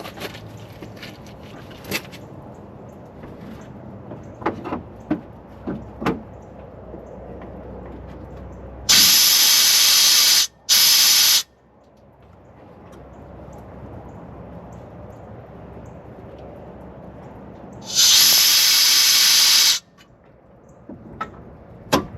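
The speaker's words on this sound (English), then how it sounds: "I'm gonna shoot some air now." Compressed air blasts at the exhaust back pressure sensor area of a 1999 Ford F-450 7.3 diesel, two loud hissing bursts around the middle and another near the end, separated by quiet shop noise and small clicks.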